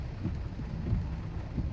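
Rain falling outdoors, heard as a steady, soft hiss with a low rumbling undertone, continuous and moderately faint throughout the short stretch.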